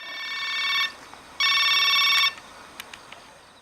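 A telephone rings in North Korea with two loud, clear electronic bursts separated by a short pause, followed by a few faint clicks.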